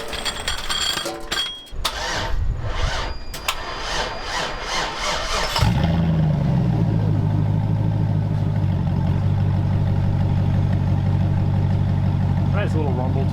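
A Sierra SS pickup fitted with a new Flowmaster 10 Series exhaust is heard after a few seconds of sawing-like rasping noise. The engine then starts and settles into a loud, steady, deep rumbling idle close by.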